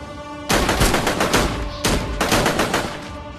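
Bursts of rapid automatic gunfire in a desert warfare video game, loud and close, two long sustained volleys separated by a brief gap, no speech over it.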